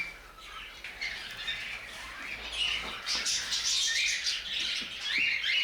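Shrill, repeated squawks and chirps from young budgerigars, close and continuous, rising into a busier chorus toward the end.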